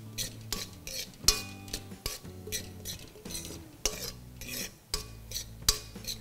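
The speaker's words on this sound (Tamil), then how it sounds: "இது மாதிரி ஸ்லோ ஃப்ளேமில் இதை வறுக்கணும்." Pineapple kesari is stirred and fried in a pan over a slow flame, with rhythmic scraping and clinks of a spoon against the pan every half second over a soft background sizzle.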